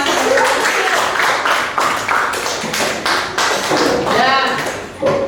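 A class of students applauds in a classroom after a teaching demonstration, the loud clapping coming in uneven bursts, close by and mixed with voices talking and calling out over it.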